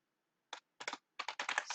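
Java code is typed on a computer keyboard in a quiet room, bursts of crisp clicking key presses coming quickly and close, with short pauses between them.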